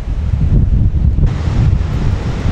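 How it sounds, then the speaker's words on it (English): Strong wind at a beach by a shipwreck site on an open coastal strait, buffeting the microphone with loud, heavy low rumble and gusty surges, continuous throughout with no voices. "Oh, it's bloody windy."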